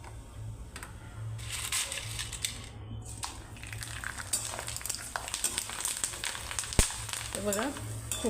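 Thin potato wafers crackle and sizzle steadily as they fry in hot oil, a continuous close hiss with scattered sharper pops and a brief dip partway through.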